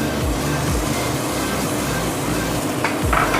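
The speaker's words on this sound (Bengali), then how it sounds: "দিয়েও আবার কষাতে হবে খুব ভালো করে, যতক্ষণ না তেল ছাড়ছে।" Tomato paste for chole masala fries and sizzles in oil, a steady close hiss with a spoon scraping and stirring through it in uneven strokes.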